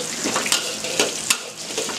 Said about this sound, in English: We're going to put the onions and the garlic in there. You want to brown that.